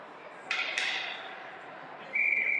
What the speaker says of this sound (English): And the ref finally blows the whistle dead.